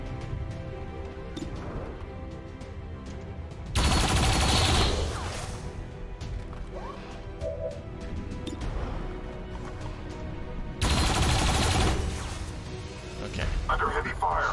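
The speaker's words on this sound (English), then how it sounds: "Under heavy fire." Heavy gunfire in XCOM 2 erupts in two loud, dense bursts of overlapping shots and crashes, separated by quieter stretches of ambient battle noise with a voice talking throughout.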